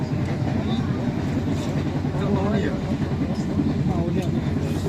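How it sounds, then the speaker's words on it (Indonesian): Airlangga economy train arriving and stopping at Jatibarang station, a steady low rumble of rail cars throughout with faint squeals. "saat ini kereta api Erlangga sudah datang dan berhenti di stasiun Jati Barang"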